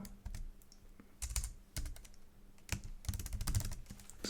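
Typing on a computer keyboard during Python software setup, irregular clusters of quick clicking keystrokes with short pauses between bursts, close and fairly quiet, no talking.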